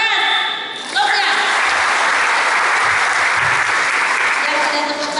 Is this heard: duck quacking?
no